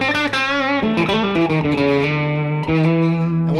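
Electric guitar played through an amp cranked up to 9 with no pedals, giving a slightly hairy, lightly distorted tone with amp reverb; a steady run of sustained notes and chords, loud and close throughout.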